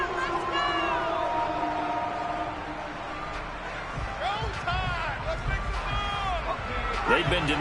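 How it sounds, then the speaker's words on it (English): A stadium crowd roars in Madden 22, a broad steady rumble of cheering that swells slightly, heard under play-by-play commentary and a few sharp game effects. "this crowd's going to get even louder"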